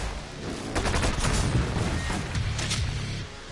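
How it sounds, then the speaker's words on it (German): Gunfire erupts in the shooter game DOOM Eternal, including a BFG shot, as a loud, dense barrage of overlapping blasts and rapid impacts continues for several seconds. "nehmen wir gleich den anderen BFG-Schuss noch mit."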